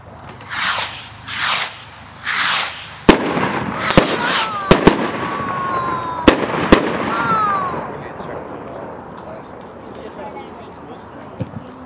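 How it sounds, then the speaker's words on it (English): A Smiley Rocket consumer firework whooshes up in a few rising hisses, then bursts in a series of sharp cracks and pops with crackling tails before fading, heard outdoors at night with voices in the background. "Number 14, Smiley Rocket. That's what that last one was."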